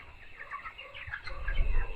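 Chickens on a poultry farm where many birds are sick with kidney trouble, giving soft scattered clucks and low murmurs, fairly close, with a low rumble rising toward the end.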